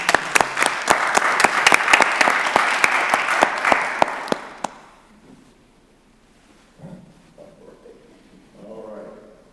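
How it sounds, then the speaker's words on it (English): Applause for the parents at a county board of commissioners work session: a few sharp, distinct claps in a quick run that last about four seconds and then stop, followed by quiet room murmur and a brief voice. "Let's give the parents a round of applause."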